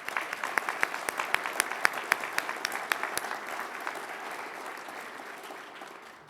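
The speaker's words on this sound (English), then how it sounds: "Please join me in a round of applause celebrating these outstanding Chief Executive" An audience at a CEO of the Year awards event applauds the honorees with a steady patter of many hands clapping, a few sharp nearby claps standing out, gradually thinning and fading toward the end.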